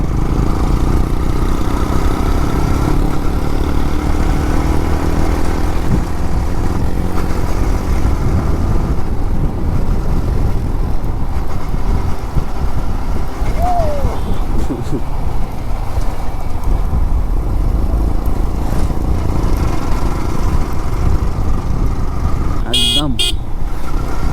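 A motorcycle ridden hard in a road race, its engine droning loud and close throughout amid traffic noise, with a horn sounding near the end and voices shouting faintly.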